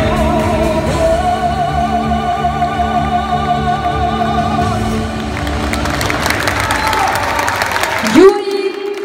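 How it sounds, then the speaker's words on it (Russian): Audience applause at a concert performance, a sustained clapping wash beneath lingering tonal music, building toward the end before cutting off abruptly. "Спасибо за аплодисменты, друзья."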